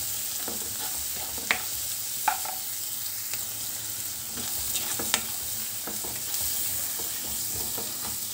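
Onion pieces frying in oil with salt and turmeric for an egg masala curry, a steady close sizzle with occasional sharp clicks of a spoon against the pan, no talk.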